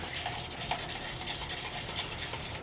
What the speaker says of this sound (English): And you can stir.